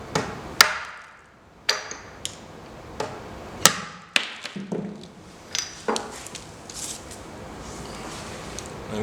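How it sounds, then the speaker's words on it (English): A hammer knocks the axle out of a Hope Pro II rear mountain bike hub resting on a hub support, giving a series of sharp metallic strikes at irregular intervals, close and loud with no talk. "I'm going to rest it here against this hub support and hit the axle to remove the bearing."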